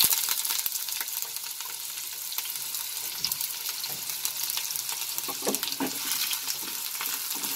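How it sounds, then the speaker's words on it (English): Dried red chilies and sliced onions frying in a pan for aloo gobi, a continuous bright hiss of sizzling oil with scattered pops and stirring scrapes, close and steady. "First I am going to add 2 dried red chilies, and the sliced onions."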